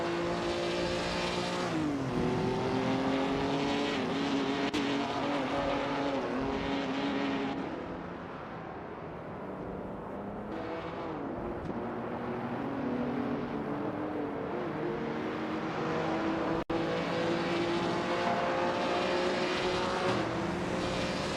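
Vintage street cars racing in an AI racing game, engines droning and revving continuously with shifting pitch as cars pass, loud and close, dipping briefly before building again.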